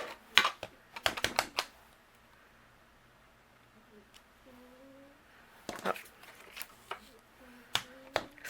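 A rubber stamp with black ink pressed in a stamping positioner on a craft table, heard as clusters of sharp close taps and clicks with quiet pauses between, plus a faint tonal squeak partway through; no talking.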